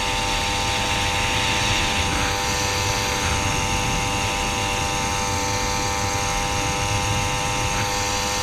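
A Motobecane moped engine runs at three-quarter throttle during a speed test ride, giving a continuous, steady, buzzing drone that holds unbroken at fairly high volume throughout.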